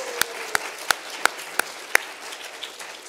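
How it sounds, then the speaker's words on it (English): A small conference audience gives a thin round of applause at a digital preservation community session: about six distinct, evenly spaced claps ring out over roughly two seconds, then fade into quiet room tone. "Also a round of applause for those."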